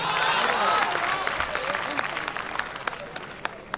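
Students at a college engineering fresher's party applaud, a dense crowd clap that thins into scattered individual claps, with some cheering and voices mixed in.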